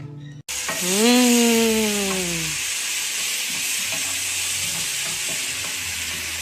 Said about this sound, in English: I'll give it a stir.